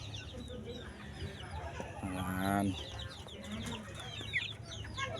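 Soft clucking and peeping from young chickens, close by, with a short spoken word over it and faint farmyard background noise.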